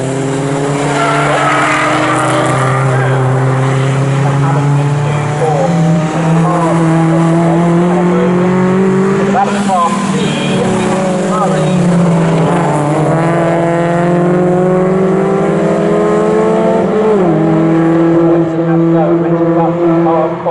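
MG Cup race cars howling through the Snetterton circuit, engine notes rising and falling in overlapping pitch sweeps with tyre squeal, loud and continuous under a commentator's voice.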